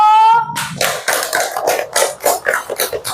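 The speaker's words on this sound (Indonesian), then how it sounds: "coba tepuk tangan dulu" Children clap their hands in a classroom, producing a quick run of sharp, evenly spaced claps close by, following a short tone at the start.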